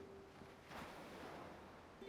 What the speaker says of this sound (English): Listen to the ocean. It's beautiful.